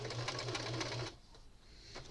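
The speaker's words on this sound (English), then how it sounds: "this sewing machine will work just fine for what I need it for" A sewing machine runs at a fast, even stitching rhythm for about a second, then stops, leaving quiet mechanical ticking and faint room noise.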